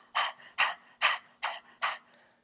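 Five sharp, forceful nasal exhales from breath of fire breathing, evenly spaced in a quick steady rhythm, close and clear with brief quiet gaps between each puff.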